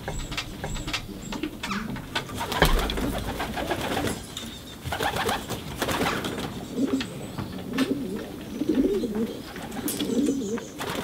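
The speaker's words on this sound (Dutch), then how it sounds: "Duiven zien er altijd perfect uit." Racing pigeons cooing inside their loft, repeated soft throaty coos from several birds at close range, with occasional clatters and wing flutters in the background.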